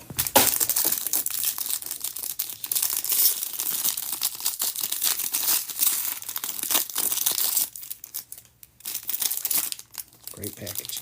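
Packaging crinkles and crumples close by while a box is unboxed, with busy bursts of rustling and tearing-like crackles that come and go and briefly drop away near the end.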